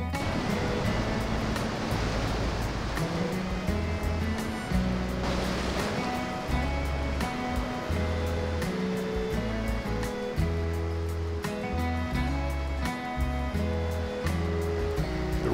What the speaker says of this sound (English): the tide's coming in, and the swells are picking up